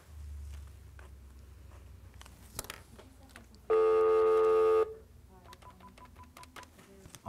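A telephone call goes out with faint clicks and a tone, then a loud steady electronic ring or tone holds for about a second before quieter clicks and a faint tone follow, the line going unanswered.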